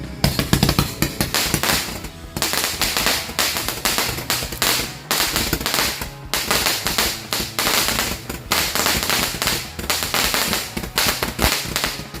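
A 168-shot fireworks cake fires rapid, continuous volleys that crackle and bang for several seconds, dense and loud, with brief gaps between bursts.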